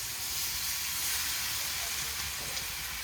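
Banana pieces go into a hot pan for a sweet Kerala banana roast, giving a soft, even frying hiss and sizzle that holds steady throughout with no one speaking.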